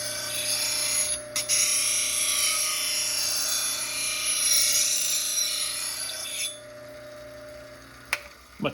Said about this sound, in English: So I'm on a slow speed grinder. This is the Wolverine one-way platform.